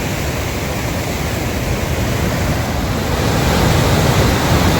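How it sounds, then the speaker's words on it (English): Rushing water at Niagara Falls, a dense, continuous roar from a nearby cascade that holds steady and swells slightly toward the end, with no voices over it. "Ah, the sound of rushing water"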